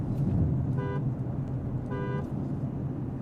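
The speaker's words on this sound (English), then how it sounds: "I'm going to the horn, I want them to hear about it" A Ferrari Purosangue horn gives two short, bright honks about a second apart, heard from inside the car over a steady low cabin rumble.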